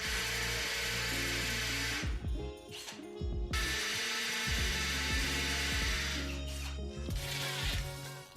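A power drill whines as it bores into a wall, running in long bursts broken by two short pauses, close and fairly loud.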